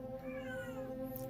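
A cat meows close by, a drawn-out rising and falling cry heard alone over a steady background hum.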